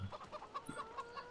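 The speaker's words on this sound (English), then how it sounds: "some of the chickens are clever and they manage to lay on top of the posts" Chickens on a farm in the game Newbie clucking softly, a string of quick, faint murmuring clucks in uneven rhythm.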